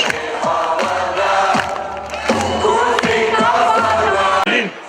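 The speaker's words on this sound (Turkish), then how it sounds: "Alkış" A large crowd at an outdoor political rally roars and cheers continuously, with shouting voices and scattered clapping running through the whole stretch.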